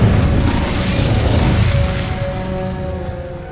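A fire spell is cast in Hogwarts Legacy, a loud whooshing burst that roars at once and then trails off over a few seconds, with no talk.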